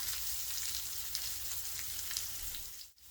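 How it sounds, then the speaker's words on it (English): Skin-on fish fillet searing in a hot pan, a steady dense sizzle and crackle running continuously at close range, cutting off briefly near the end. "Just gonna get a nice char on the outside of it"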